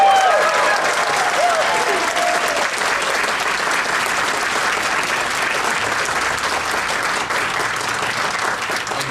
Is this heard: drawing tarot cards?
no